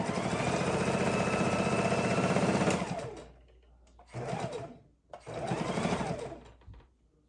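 A sewing machine back stitches the corners of a fabric soup bowl cozy, a loud continuous run that stops, then two shorter bursts of stitching follow with brief pauses between.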